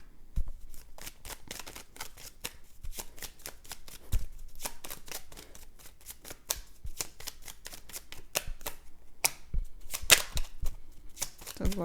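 A deck of tarot cards is shuffled and a card is pulled, producing rapid, crisp flicking and slapping right up close, irregular and building to a busier flurry near the end.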